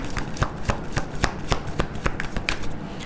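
Playing cards are shuffled and drawn, with close, rhythmic riffling flicks repeating steadily and no talk over them.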